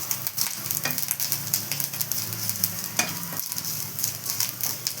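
Grated coconut fries in ghee in a pan, giving a steady close sizzle broken by occasional scraping stirs, with no talking.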